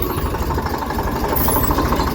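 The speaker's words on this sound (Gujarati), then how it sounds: "જો ટ્રેક્ટર આવ્યું છે" A tractor engine running nearby, a steady loud low rumble with throbbing mechanical vibration and no break across the moment.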